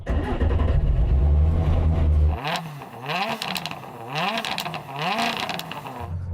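A Lamborghini Huracan engine drones, then blips through several sharp revs that rise and fall in quick succession.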